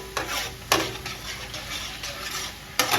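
Chopped onion sizzles steadily in a paella pan, with a few sharp scrapes of stirring rising above the continuous frying hiss.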